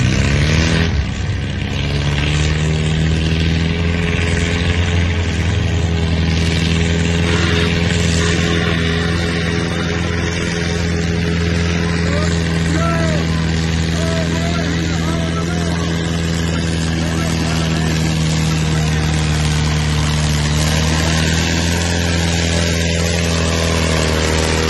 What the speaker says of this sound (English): He sent me a video of their tractor.